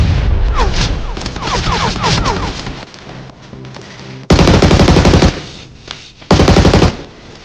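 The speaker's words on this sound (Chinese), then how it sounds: "右手位敌人听到枪声后果断拉了过来，鲨鱼被两面夹击，结果可想而知。" Rapid automatic gunfire from the mobile shooter Peacekeeper Elite, with bursts of rattling shots, a quieter pause, then two loud, dense volleys close up.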